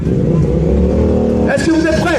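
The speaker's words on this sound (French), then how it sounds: "C'est une moto qui n'a pas de chicane." A Suzuki SV motorcycle running without an exhaust baffle gives a loud, steady engine drone that climbs into a sharp rev near the end, while someone talks over it.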